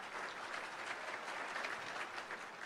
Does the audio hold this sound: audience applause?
yes